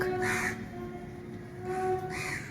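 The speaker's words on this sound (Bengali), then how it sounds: "কত কাক" Crows caw repeatedly, a few harsh calls near and others farther off, beside a temple complex at Dakshineswar, with a steady hum of background noise.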